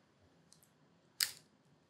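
A single quick, crackly rip as sticky plastic film is peeled away, close and brief, surrounded by near silence.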